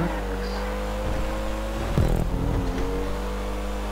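A four-wheeled vehicle in GTA 5 drives with a steady, close engine drone. Midway through it revs up briefly, then settles back into a continuous hum.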